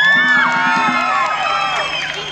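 Live concert crowd in Nagykáta cheering and applauding for a singer, a continuous dense roar of voices and whoops with bright shouts layered over steady clapping.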